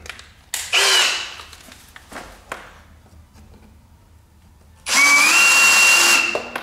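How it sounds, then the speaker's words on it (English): A cordless drill fitted with a countersink bit bores into wood during a pipe organ restoration, two loud sustained whirring bursts with a pause of quiet tapping between them, close and alone. "Then just take that drill out, put a countersink bit in."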